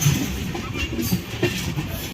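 A Purvanchal Express passenger train rolls along the tracks near Gauri Bazar station, a steady close rumble with faint rhythmic clatter heard from inside the carriage, with soft voices in the background.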